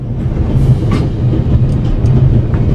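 A train running on its tracks in the video game The Raven, with a loud continuous rumble and rhythmic clickety-clack of wheels throughout, plus some brief higher rattles.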